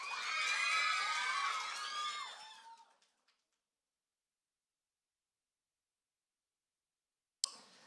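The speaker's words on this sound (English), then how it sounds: "Let's have a round of applause," Children in the audience at a Year 6 graduation at an international school cheer and shout excitedly for about three seconds, then the noise cuts off to near silence before a brief click.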